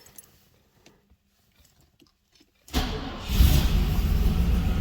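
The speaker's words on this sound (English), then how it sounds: "Car running." A Mercedes SL 500 engine cranks and fires after a near-silent stretch with faint handling noises, then settles into a steady, loud idle that continues to the end.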